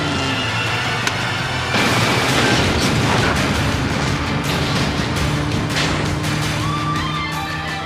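A missile launches from a vehicle-mounted launcher in a television action drama, a loud rushing roar and boom bursting in after a brief engine hum, then a sustained noisy blast with sharp crackles.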